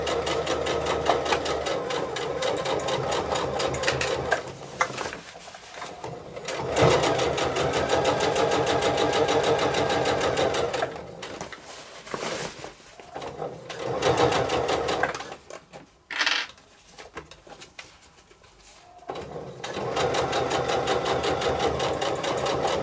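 A sewing machine stitches a beach bag in long loud runs of rapid mechanical chatter, pausing briefly a few times before starting up again, close and continuous.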